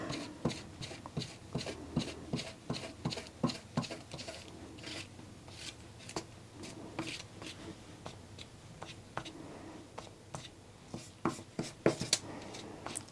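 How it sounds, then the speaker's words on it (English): Parchment paper on a Cricut Joy card mat is pulled and slid, making soft, repeated scraping and rustling strokes close by, fairly faint, with no talk. "I'm going to just pull my parchment paper down to this end"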